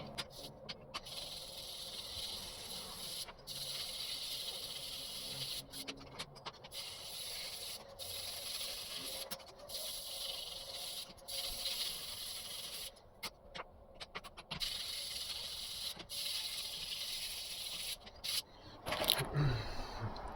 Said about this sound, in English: I have this little bit of 120 grit sandpaper. We're just gonna go real lightly